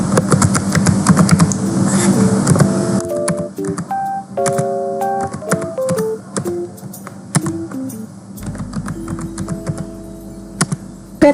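Typing on a computer keyboard to enter a password at a network lab CLI: a quick, loud run of close key clicks, overlaid with short beeping tones that step up and down in pitch.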